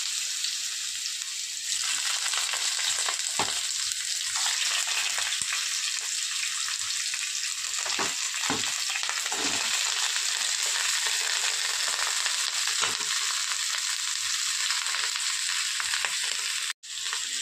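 Vegetables dropped into hot oil for fried Maggi noodles sizzle and crackle continuously, a loud, close, steady hiss broken by occasional stirring scrapes.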